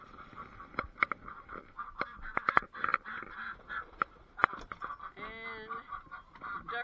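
Ducks on a small hobby farm quack and honk in a busy, overlapping chorus of short calls, close by and fairly loud, with no talking.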